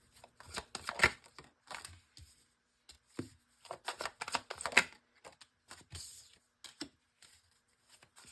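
Shuffling a thick, stiff deck of tarot cards during a pick-a-card reading: irregular close, soft riffling and slapping bursts with short pauses between, quiet and without talk.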